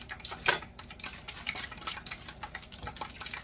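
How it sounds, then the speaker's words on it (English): A knife tip presses into McRib-style pork patties, giving soft irregular taps and scrapes of metal against the meat and pan, fairly quiet and close, with no talking. "We're going to take the end of a knife, and I'm going to push down in there"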